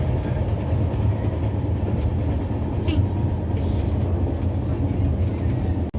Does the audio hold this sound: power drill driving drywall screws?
no